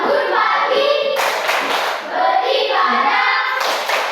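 Children clap out a rhythmic patterned chant in a classroom, loud close claps in repeated bursts mixed with chanted voices, pausing briefly midway before resuming.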